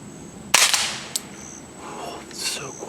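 A single sharp suppressed gunshot from a rifle fitted with a Griffin Armament Paladin 5 suppressor cracks close by, followed by a faint ring and softer rustling, with no talking.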